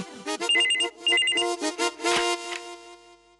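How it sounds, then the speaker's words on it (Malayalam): A phone ringtone plays a bright, repeating electronic melody in short bursts, close and clear, with no talking. "ഈ ഫോൺ എടുക്കേ, ഞാൻ ചായ കൊടുക്കട്ടെ."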